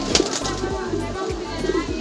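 Pigeons coo repeatedly at a busy loft, low rolling calls recurring in a steady rhythm at close range, with faint wing flutters and background chatter of people mixed in.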